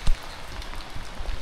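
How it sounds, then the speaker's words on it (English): Heavy, torrential rain drums steadily on a hot tent in strong winds, a dense close patter with a few louder thuds of drops on the fabric. "It's going to just be a full on day of heavy, heavy rain and strong winds."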